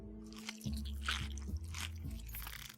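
A cockroach snacking on a corpse in the video game 3 Minutes to Midnight gives off wet, squishy crunching bites in several irregular bursts over a steady low game hum.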